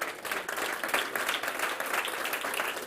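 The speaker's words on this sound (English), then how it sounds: "Again, big applause for our 4 winners" An audience applauds the four startup winners at the Start.up! Germany Tour 2022 grand final, a continuous crowd of clapping hands that stays even and fairly close for a few seconds.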